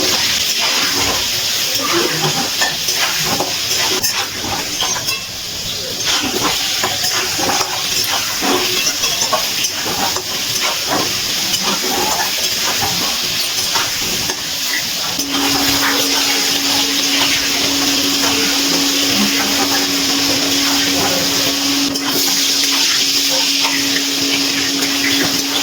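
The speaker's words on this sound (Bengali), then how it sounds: "দিয়ে এবার আলুগুলো ভালো করে ভেজে নেবো।" Potatoes, seasoned with turmeric and salt, frying in oil for a desi chicken curry, giving a loud, steady hiss and sizzle that runs throughout with a faint background tone.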